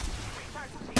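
Single sharp gunshot from a weapon in the Apex Legends video game, a loud, abrupt crack that lands right at the end over low game ambience.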